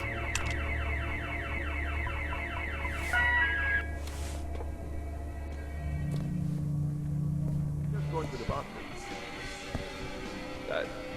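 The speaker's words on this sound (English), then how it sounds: "Who set this alarm off?" A repeating electronic alarm in the video game The Occupation warbles loudly for about four seconds before cutting out, after which a steady hum and muffled rumbling carry on.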